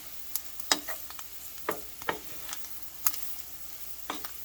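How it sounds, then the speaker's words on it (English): Flour being stirred into sizzling sausage in a pan for gravy: repeated scraping stir strokes at an uneven pace over a steady, close sizzle. "So we're just sprinkling it over the sausage and we're going to stir it."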